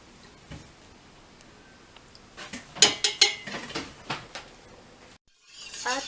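A spoon stirring sugar into a mango jelly mixture in a pot, heard as a run of sharp metallic clinks and scrapes against the pot's side, loudest midway, then a brief silence before rougher stirring resumes.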